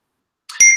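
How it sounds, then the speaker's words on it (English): A computer notification bell rings once, a short bright chime that cuts in from silence near the end and holds a clear ringing tone. "you should mute your bell"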